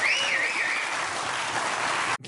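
A comedy show audience applauds steadily in a dense, even wash of clapping with a whoop on top, cutting off abruptly near the end.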